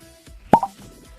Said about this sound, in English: Very good cork pop.